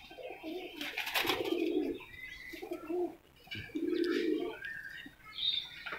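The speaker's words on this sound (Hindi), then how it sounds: "तो ये हैं वो कबूतर जो तैयारी के मराहिल में हैं" Pigeons coo in low, soft bursts, several rounds close by, with a few higher chirps and light rustling in between.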